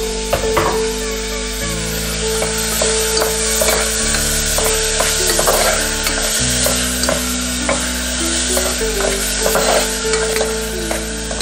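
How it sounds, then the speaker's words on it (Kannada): Chopped tomatoes fry and sizzle in a pan for a Malabar spinach dal while a utensil stirs and scrapes through them in steady, close strokes, with a constant low hum underneath. "ಈಗ ಟೊಮೆಟೊ ನೋಡಿ ಚೆನ್ನಾಗಿ ಫ್ರೈ ಮಾಡ್ಕೋಬೇಕು"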